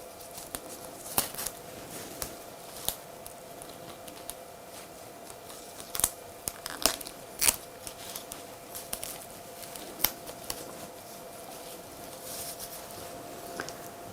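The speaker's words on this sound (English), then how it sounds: "I'm going to use anchor tape to cover the mechanics." Anchor tape is wrapped around the stems of an anthurium bridal bouquet, producing faint scattered crinkles, taps and tearing ticks over a quiet room hum, close but soft and irregular.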